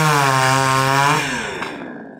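Chainsaw cutting dry deadwood from forest shelterbelts into firewood beside a fire station, a loud, steady engine whine that drops in pitch midway as the blade bites into the log.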